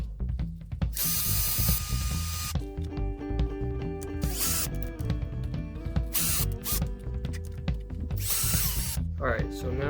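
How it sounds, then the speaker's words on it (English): A power drill drives screws into a custom battery strap for a Traxxas Rustler RC car. Several whirring bursts rise and fall in pitch, with short pauses and ratcheting clicks between them. "I'm going to drill them in right here"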